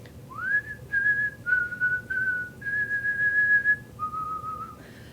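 A storyteller whistles a wavering tune in imitation of a scarecrow, with a rising opening note followed by several sustained, slightly shifting pitches. The whistling is clear and close over a low background hum, with no talking.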